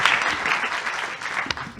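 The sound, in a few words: audience applause at the end of a conference talk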